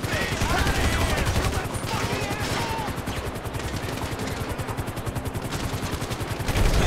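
Rapid automatic gunfire crackles through a GTA 5 shootout at a construction site, a dense continuous rattle of shots lasting throughout, with shouting voices woven in.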